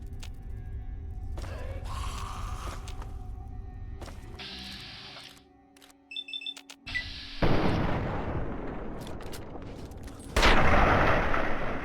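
Rifle shots ring out in the Fallout 3 video game, a few sharp cracks scattered among mechanical clicks and game effects, then sustained loud noisy bursts near the end.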